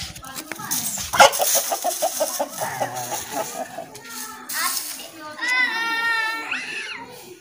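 A rooster among farm animals clucks in a rapid run of close, loud notes, then gives a crow, with people talking nearby over it.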